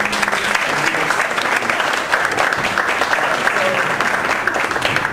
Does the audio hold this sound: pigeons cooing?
no